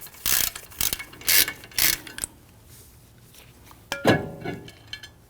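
A ratchet clicks in several quick bursts as it loosens a T40 Torx screw on a rear brake rotor of a 2013-2019 Ford Explorer Interceptor, close up, with a louder clunk near the end.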